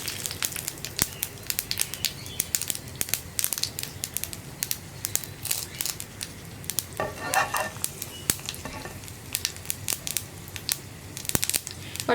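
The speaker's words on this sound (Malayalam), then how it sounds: "ഇപ്പോൾ നമ്മുടെ കടുക് പൊട്ടിക്കൊണ്ടിരിക്കുന്നുണ്ട്" Mustard seeds splutter and pop in hot coconut oil, with sharp irregular crackles scattered over a soft steady sizzle, close and fairly loud, with no talk.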